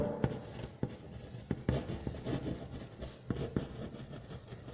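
Chalk or marker scratches across a classroom board during a maths lesson on sets, in quick irregular strokes and taps, close and fairly clear with no talking over it.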